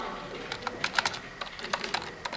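Light typing on a computer keyboard while entering text into LED sign software: a steady run of clicky keystrokes at irregular spacing, close and clear, with no talking.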